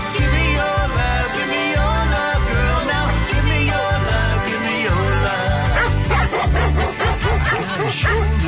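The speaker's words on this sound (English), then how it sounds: "You've upset all the dogs now." Several dogs bark and yip in loud, irregular bursts over a dense, continuous background of music.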